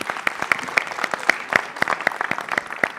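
Audience applause at a world forum on gastronomy tourism, a dense burst of many hands clapping close by, sustained and fairly loud throughout.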